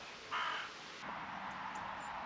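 Rooks in autumn woodland near fields give a single short cawing call at a distance, standing out over a soft, steady outdoor background.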